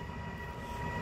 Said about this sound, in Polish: Skład towarowy.